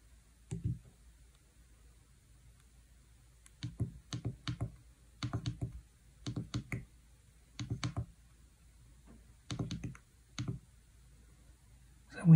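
Arrow keys on an HP Prime calculator clicked while steering a Snake game, quiet plastic taps in short bursts of two to four presses separated by pauses, close and dry.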